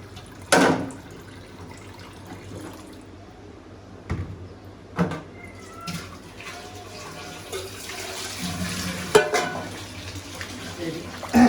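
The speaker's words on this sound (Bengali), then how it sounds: "ঠান্ডা করে নিয়ে এখন শুধু ঠান্ডা পানি দিয়ে ধোয়া হবে" Dried ribbonfish washed under cold running water, with splashing and pouring in short bursts, a few sharp knocks against a vessel, and a person speaking intermittently between them.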